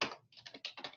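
Crisp keystrokes on a computer keyboard while filling in a form builder, a short burst of about six to eight close, bright taps after one louder initial stroke, with no voices.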